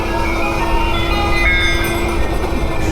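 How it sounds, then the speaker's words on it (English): An ice cream truck's melody chimes out from a street cart, a tinkling repeating tune over a loud background of traffic and street noise, fairly close and continuous. "It's an ice cream truck."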